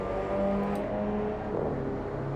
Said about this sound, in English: Now see, you can hear his engine crystal clear.